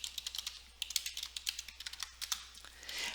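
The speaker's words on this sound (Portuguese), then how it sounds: "Deixa eu só digitar a senha aqui" A password is typed on a computer keyboard: quick, irregular, close key clicks in a brisk run, quiet and crisp against silence, with no speech.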